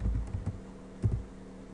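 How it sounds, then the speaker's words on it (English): A few quick keystrokes on a computer keyboard as a command is typed into an Ubuntu server terminal, light close clicks in short bursts. "So we need to type here Tomcat up"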